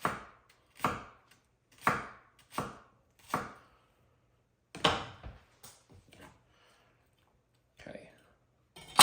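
Knife rolling through an onion on a cutting board in a series of crisp, close chops, a quick run of regular strokes, a pause, then a few more scattered cuts with a soft voice between.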